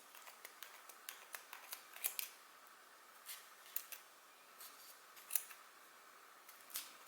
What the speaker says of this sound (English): start cutting the bits where it's folded over at the top first of all